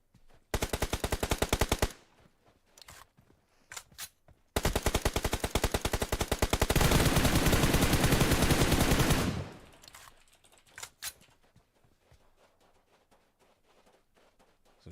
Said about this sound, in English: Some shots fired here.